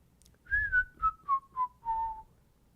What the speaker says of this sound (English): That was my attempt at whistling